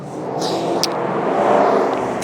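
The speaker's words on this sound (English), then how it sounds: "Car noises. Mustang." A Mustang passes on a street, its engine a moderately loud rumbling roar that swells and fades over a couple of seconds, with faint higher background noises.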